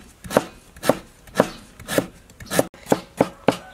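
A knife chops galangal on a cutting board in a steady rhythm, about eight crisp, close thuds spaced roughly half a second apart, alone with no talk.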